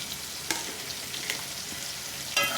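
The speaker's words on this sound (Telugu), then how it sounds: "వేసుకొని ఉల్లిపాయలు ఫ్రై అయిన దాకా ఫ్రై చేసుకోవాలి." Onions and green chillies fry in a pan for a spicy small-fish curry, a close, even sizzle with a few sharp stirring clinks of a spoon against the pan.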